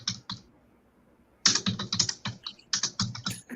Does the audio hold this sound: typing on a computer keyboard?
yes